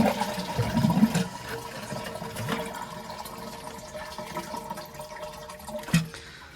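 A toilet cistern being emptied as it flushes, a steady close rush of draining water that gurgles and fades, with a sharp knock near the end and no talking.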